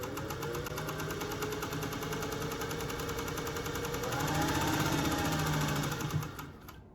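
A restored vintage Singer 201-2 sewing machine with a potted motor runs steadily, its smooth, even mechanical whir and rapid needle stitching holding close and constant before winding down and stopping at the end.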